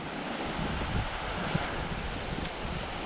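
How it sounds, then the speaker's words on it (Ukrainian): Strong wind roaring steadily across the microphone, a continuous broad rush with no voices. "І оцей я бачу вітер прям зі сторони Черкас такий сильний."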